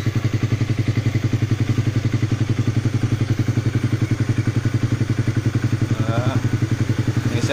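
An older Honda CB150 motorcycle engine idles with a steady, loud, rhythmic thumping putter that stays even throughout while someone talks over it.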